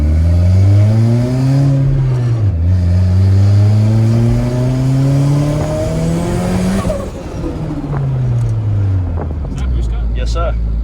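Honda K-series engine swapped into a Porsche 911, revving hard on a dyno, climbing through the gears in long rising pulls, dropping off and building again, very loud and close throughout.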